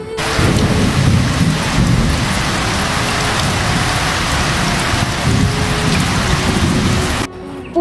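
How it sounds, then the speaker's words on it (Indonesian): Heavy rain pours steadily with deep rolling thunder rumbling beneath it as a storm effect in a traditional theatre staging of the Lake Toba legend, loud and continuous before cutting off abruptly near the end. "mendadak langit menggelap, kilat menyambar, disertai bunyi gemuruh yang menggelegar"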